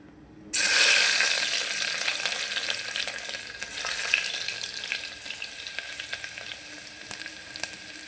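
Garlic hits hot oil in a pressure cooker and erupts into a sudden loud sizzle, then settles into a steady crackling fry that slowly fades but continues throughout.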